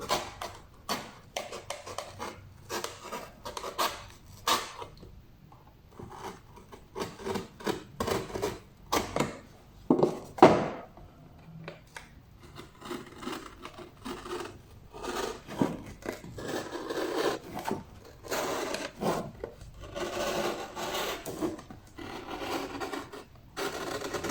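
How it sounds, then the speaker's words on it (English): A knife slowly cutting a circle out of an empty milk carton, giving irregular soft rasping and scraping strokes at close range, with a few sharper scratches partway through. "You can use a knife and cut the circle slowly."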